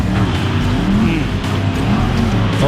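Drift car engine on a racetrack, heard from a distance as a steady, rough roar that rises and falls with faint tire noise, loud and continuous.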